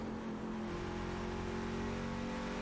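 Truck race engine in the iRacing sim at Phoenix Raceway, a steady, sustained drone holding an even pitch throughout, moderately loud and heard alone.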